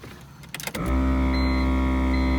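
A BMW E46 engine rumbles steadily close by as the car pulls up after a few brief clunks, a low continuous drone settling in as it idles nearby.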